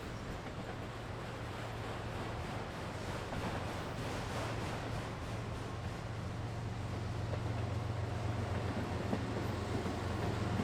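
Long freight train over 13,000 feet on the LCL subdivision passing at La Grange, with a distributed power unit locomotive mid-train; a steady, loud rumble and clatter of rolling cars holds throughout, with a low hum beneath and no talk.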